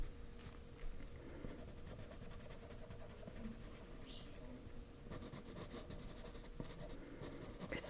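Coloured pencils scratch and scribble across paper in close, quiet strokes, a fine rhythmic scraping that runs almost continuously with brief pauses, faint and alone.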